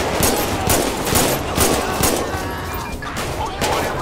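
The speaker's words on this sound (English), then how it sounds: "Oh, shoot. Shots fired." Gunfire in the video game GTA with the LSPDFR police mod: repeated bursts of shots and rattling volleys across the whole stretch, loud and dense, with a few crashing impacts mixed in.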